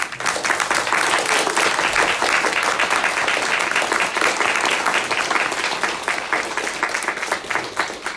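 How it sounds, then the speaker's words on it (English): Sustained applause from an audience, steady and loud, many hands clapping continuously throughout with no pause. "can we have a round of applause?"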